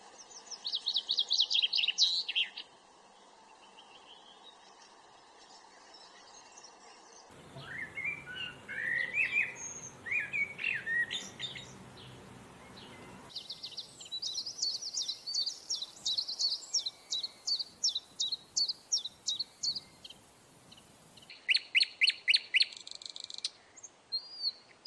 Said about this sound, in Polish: posłuchajmy jeszcze dosłownie kilku gatunków ptaków. Posłuchajmy, jak wspaniale śpiewają